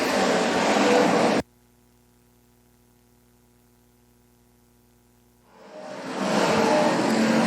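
American Stock race cars roar off at the green flag of a 20-lap A feature at Kern Raceway, a loud engine blare that cuts out abruptly into a low hum, then swells back in.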